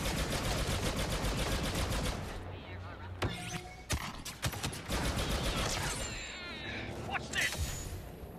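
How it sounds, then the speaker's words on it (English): Blaster fire in Star Wars Battlefront 2, a dense, loud stream of rapid shots that thins out into scattered sharp bursts and crackles amid battlefield noise. "I love all this blaster fire"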